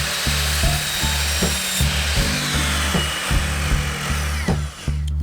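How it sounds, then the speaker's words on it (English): A chop saw cuts wood into strips for a small wood cabin, a loud steady motor whine with repeated low thumps as each push goes through, sounding alone without talk. "Hopefully the chop saw is going to do a clean job of just push, push, push."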